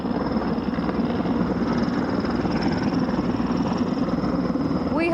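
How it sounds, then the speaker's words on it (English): Helicopter returning to land, a steady loud rotor and engine drone with a constant whine, heard close and unchanging throughout. "Here comes the helicopter back for its landing."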